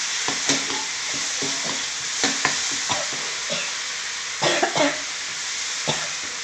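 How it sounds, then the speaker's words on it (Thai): Chili sauce for fried tilapia sizzles steadily in a pan as tamarind juice goes in, with scraping stirs and occasional coughs over the hiss. "ใส่น้ำมะขามลงไปพี่น้อง"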